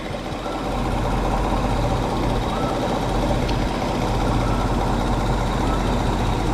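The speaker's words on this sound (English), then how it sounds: "pop the hood and see if we can't locate this exhaust leak" A vehicle engine with a cracked, leaking exhaust runs steadily close by, a continuous rough low rumble with no break.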